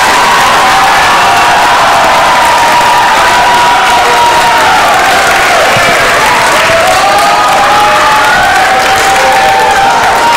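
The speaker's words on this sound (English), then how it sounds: "Let's give a round of applause to Drew Lutzo because he did an amazing job." A chapel congregation at a lock-in hymn sing breaks into loud, sustained applause mixed with cheering and whoops, a continuous roaring crowd noise with raised voices throughout.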